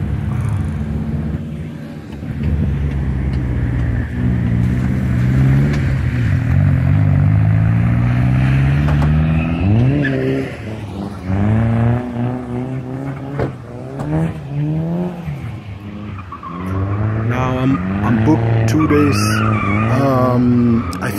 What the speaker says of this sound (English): On the other side over here right now is the Nürburgring Drift Cup.